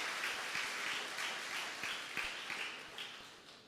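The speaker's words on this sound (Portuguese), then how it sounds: "Dá um aplauso ao Senhor Jesus Cristo nessa noite." A church congregation at an evening Portuguese-language service applauds steadily, a soft, even wash of many hands clapping that stays fairly distant and gradually fades.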